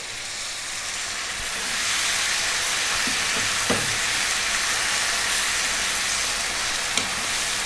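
Fresh tomatoes hit hot ginger garlic paste in a pan, and a dense, loud, continuous sizzle and hiss swells and holds steady, with a few faint clinks from the pan.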